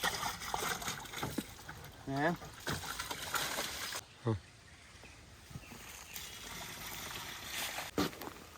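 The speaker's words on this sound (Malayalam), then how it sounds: "ഇതൊന്ന് ചുഴറ്റിട്ട് ഇതിലേക്കോട്ട് ഒഴിച്ചു കൊടുക്കാം" Water sloshes and splashes as it is poured into a homemade fertilizer mix for seedlings. It is quiet and uneven, with a person talking over it.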